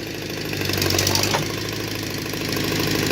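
A backhoe engine running while it digs, a steady loud diesel rumble with a knocking mechanical pulse, close by and continuous for the whole stretch, no voices.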